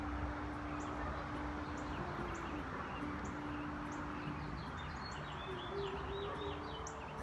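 Small birds chirp and tweet in quick, scattered calls against a steady outdoor hiss, with a dove cooing low and continuous in the background; everything sounds fairly distant and soft.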